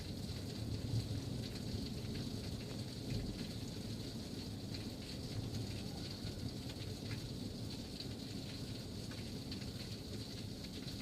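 Steady heavy rain pours down during a thunderstorm in Newfoundland, with low rumbling thunder rolling underneath the constant dense hiss of rainfall, continuous and fairly loud throughout.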